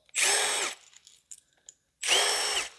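Power drill spinning out bolts from a Ford SVT Lightning engine during teardown, two loud whirring bursts separated by a pause with faint clinks of parts, close and alone.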